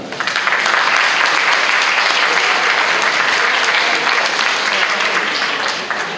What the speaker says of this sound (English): let's please give a warm round of applause to Senator Sani Angara.